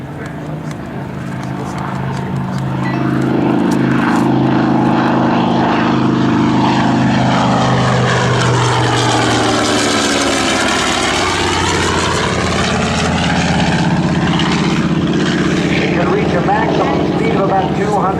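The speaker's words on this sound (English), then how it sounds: "Now I'm going to turn this down and let you listen again just to the sound of that radial engine." Loud, close drone of a TBM Avenger's radial piston engine and propeller during an air show flyby, rising and sweeping in pitch as the aircraft passes overhead, then continuing as a steady roar, with someone talking over it.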